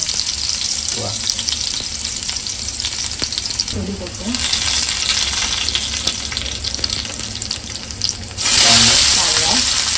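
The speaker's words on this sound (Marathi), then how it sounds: "तर तापल्यामध्ये लसणाची फोडणी द्यायची." Garlic tempering sizzling in hot oil for a Konkani-style jackfruit seed vegetable, a loud, steady frying hiss that swells sharply near the end as more goes in, with brief talk over it.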